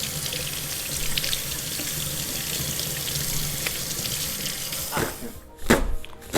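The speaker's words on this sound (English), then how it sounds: "So when you're washing the leeks, run the water this way, so that the dirt can run out." Tap water runs steadily into a kitchen sink as leeks are rinsed, a broad even wash of noise that breaks into a few sharper splashes near the end.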